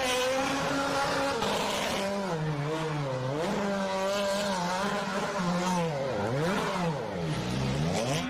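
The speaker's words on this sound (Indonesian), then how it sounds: "di sini ada mobil balap" Toy race car driving with a steady engine-like whine that swoops up and down in pitch throughout, continuous and close.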